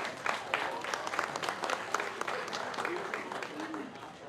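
Steady applause from an outdoor park crowd for a tenor saxophonist and trumpeter at a summer festival concert, moderately loud and continuous, tapering slightly at the end.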